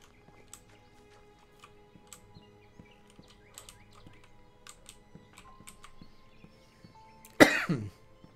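One person coughs once, a close, loud burst with a short rough tail, after a stretch of quiet ticks and faint chirps.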